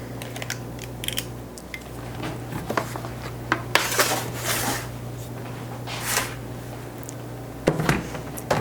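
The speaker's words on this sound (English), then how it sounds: "I'm just going to scoop the batter into these muffin pans" Raisin bran muffin batter is scooped into metal muffin pans, giving scattered close metallic clinks, taps and scrapes against a quiet kitchen background with no voices.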